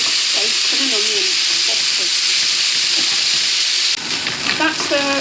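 Bacon and onions sizzle and hiss loudly in a frying pan, with a spatula scraping and stirring through the steady crackle, briefly dipping before a brighter burst of frying near the end.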